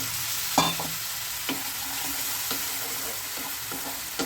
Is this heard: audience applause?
no